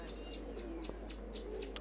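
Pigeons kept as a hobby flock call in a steady series of short, repeated chirps, fairly close and regular, over a low constant hum.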